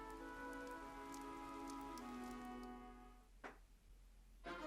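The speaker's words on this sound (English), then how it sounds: "This rain threatens a coming storm." Rain falling in the video game Fire Emblem Three Houses, a soft steady patter under a sustained musical tone, faint, with a couple of brief louder splashes toward the end.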